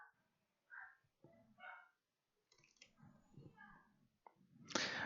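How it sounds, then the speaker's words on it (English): A dog barks in short, agitated bursts somewhere off in the background, faint and intermittent, with a person's voice heard in between. "Guys, hear that dog? Now they're losing his mind."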